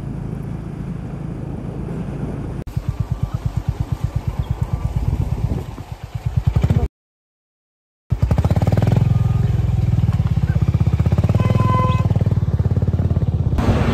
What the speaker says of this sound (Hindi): अब थोड़ा बाइक भगाते हैं।